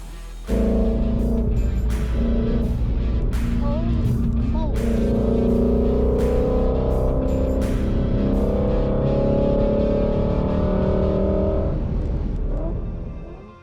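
A car rides around the Ozark International Raceway at Lake of the Ozarks, its loud engine holding a steady, close rumble and drone with slight shifts in pitch for nearly the whole stretch, fading at the end.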